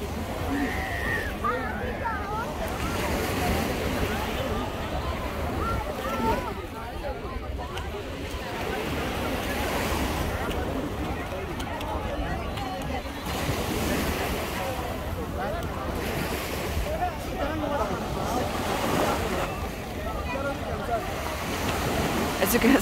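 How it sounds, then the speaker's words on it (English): Surf breaking steadily on Marina Beach in Dubai at night, a continuous wash of waves with wind noise, fairly loud and unbroken, with faint voices mixed in. "This is what Sunday evening looks like on Dubai Beach."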